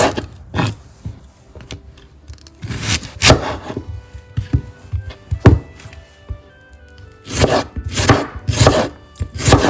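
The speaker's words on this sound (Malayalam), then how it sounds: "നമുക്ക് ഗ്രീൻ ചില്ലി ഇങ്ങനെ സ്ലിറ്റ് ചെയ്തിടാം കേട്ടോ" A knife slits green chillies on a wooden board for a Kerala-style ivy gourd and raw mango curry, giving bursts of sharp chopping thunks and scraping, loud and close, in irregular clusters with short pauses.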